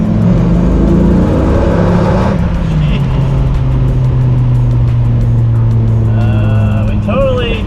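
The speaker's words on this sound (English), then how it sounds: "We totally just floored it past the cop." A 1994 Dodge Viper driven in the rain gives a loud, sustained engine drone that rises in pitch under hard acceleration, wet road hiss beneath, with a voice speaking briefly early on.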